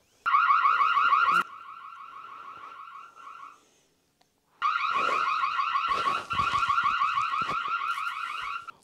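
A Reolink Duo security camera's alarm siren sounds loud and near in a rapid warbling electronic wail. A short burst drops to a quieter tone, then a pause, and the full siren resumes steadily.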